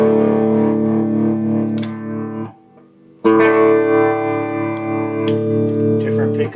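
Electric guitar played through a restored Fender Vibro Champ amplifier with tones at neutral, sustained chords ringing loud and close, a brief near-silent pause, then strumming resumes at full volume.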